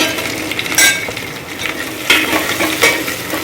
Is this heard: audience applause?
no